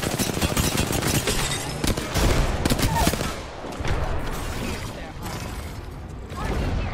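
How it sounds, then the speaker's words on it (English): Rapid, dense bursts of gunfire from a shooter video game, continuous loud fusillade-like crackling with mechanical clatter, layered with other game effects and a voice speaking over it. "Opening fire on our prey."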